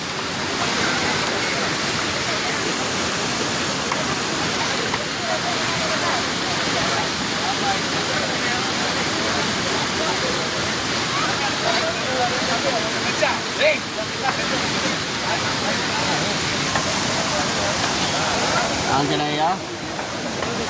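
Rushing water of Hogenakkal Falls, a steady loud roar close by throughout, with people talking faintly beneath the noise.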